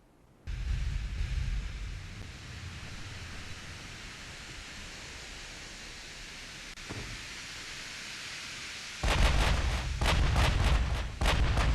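Battleship 16-inch shell gunfire in the naval video game Ultimate Admiral, a long low rumbling roar of distant artillery followed near the end by a burst of several sharp, loud booming blasts in quick succession.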